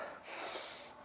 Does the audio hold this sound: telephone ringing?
no